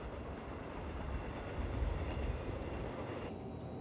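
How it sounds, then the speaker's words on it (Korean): A Donghae Nambu Line train runs along the sea, with a steady, dense rumble of wheels and carriages and no clear clacks. The sound stays close and even throughout. "바다를 끼고 시원하게 달리는 동해남부선행 열차."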